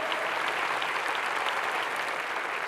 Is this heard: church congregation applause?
yes